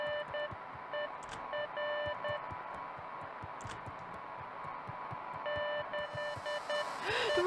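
A walkie-talkie in the video game Beacon Pines gives off clusters of short electronic beeps in uneven bursts over a steady hum and faint rhythmic pulsing, and a brief rising whoosh comes at the end.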